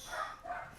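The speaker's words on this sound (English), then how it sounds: "Fucking dogs." Dogs barking nearby, two short bursts of barks close together, heard alone without talk.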